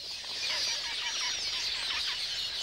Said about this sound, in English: every bush is alive with courting birds